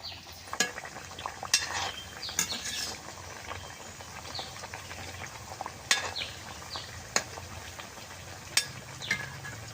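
Multigrain semolina pitha frying in oil in a wok over high heat, a soft continuous sizzle broken by scattered sharp clinks and scrapes of a utensil against the pan.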